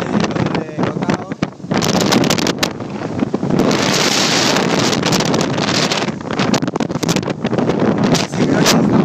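A boat sailing in Thailand near Chumphon, with strong wind buffeting the microphone and a steady rush of water and surf throughout, loud and close, with no speech.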